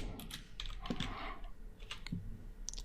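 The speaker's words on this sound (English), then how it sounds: "So that's all I'm typing in for now." Clicky computer keyboard typing in quick irregular bursts of keystrokes, close and clear with short gaps, as text is entered into an HTML document.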